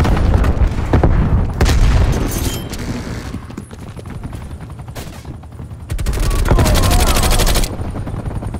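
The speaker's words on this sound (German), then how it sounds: "Werfe Granate." Chaotic Call of Duty Black Ops Cold War multiplayer battle with a grenade thrown amid loud bursts of automatic gunfire and booming blasts, the intensity dropping midway before another loud stretch of firing.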